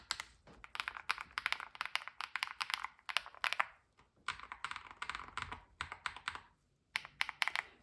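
Rapid clicky typing on a GravaStar V60 Pro mechanical keyboard in quick bursts with short pauses, crisp and close, no voices.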